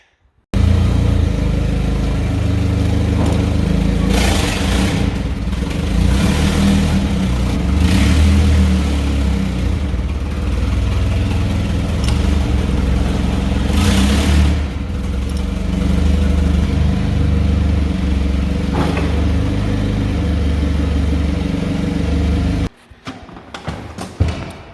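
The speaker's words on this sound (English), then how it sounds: "I'm gonna take the forklift, set this pallet down, grab it from the other side so that I can turn it around" A forklift engine runs steadily and close while moving a pallet, a loud low rumble with slight rises in revs, cutting off abruptly near the end and leaving quieter clunks.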